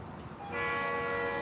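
Northbound train number 950 passes at Stuart, sounding a long, steady horn blast that rises and holds over a faint rumble of the train.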